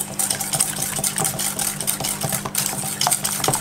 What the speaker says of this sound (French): je mélange dans mon sucre et mes œufs